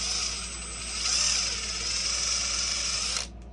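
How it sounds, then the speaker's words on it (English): A small power drill with a 1/8 inch bit whines steadily for a few seconds, its pitch rising slightly as it bores out a hole, then cuts off abruptly. "So we're going to take our 1/8 drill bit. We're just going to drill this out."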